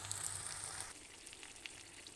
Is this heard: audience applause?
no